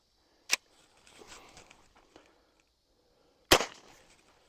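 A lever-action rifle chambered in .44 fires twice, each shot a sharp, loud crack about three seconds apart, with faint handling and shuffling noises between the shots.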